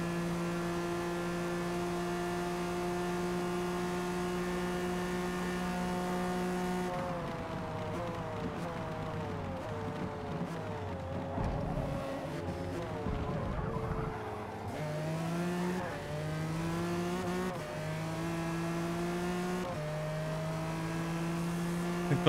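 Race cars in a Le Mans racing video game drone with steady engine tones, shifting pitch as several cars pass and rev through the middle, continuous and fairly loud with no talk.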